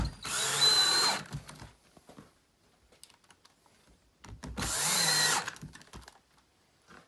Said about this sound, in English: You just drive that screw right in, no problem.